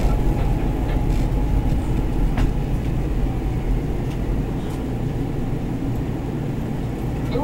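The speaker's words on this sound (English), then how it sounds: "There's another train, Ricky. You see there?" Market-Frankford elevated train running on rails in Philadelphia, heard from inside as a loud, continuous low rumble and rattle with faint clicks and squeals over the steady drone.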